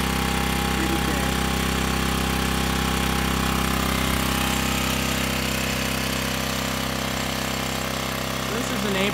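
A small generator runs close by while charging equipment for a Big Bud KT525 tractor, giving a steady, droning engine hum that does not change.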